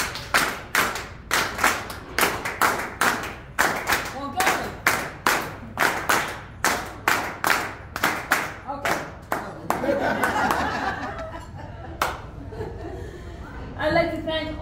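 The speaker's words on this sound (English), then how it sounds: "the clap the way we do in Puerto Rico" An audience at a holiday event claps in unison in the Puerto Rican style, about twenty sharp, evenly spaced claps in a steady rhythm. They then dissolve into looser applause and chatter, with a few laughs.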